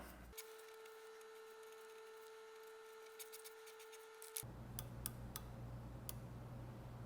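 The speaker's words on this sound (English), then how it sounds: "So it's ratcheting right there" Micrometer ratchet on a 1963 Corvair crankshaft journal, a quiet run of sharp close clicks spaced unevenly over a low steady hum and background noise, no talk.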